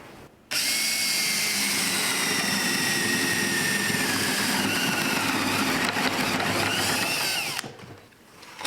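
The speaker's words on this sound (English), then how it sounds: "I'm using a 5/8 drill bit to cut this" A power drill fitted with a 5/8 inch bit bores a slot through plywood over a sacrificial wood backer, a loud, steady high whine starting abruptly and running several seconds before spinning down.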